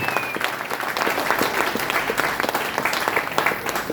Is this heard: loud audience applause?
yes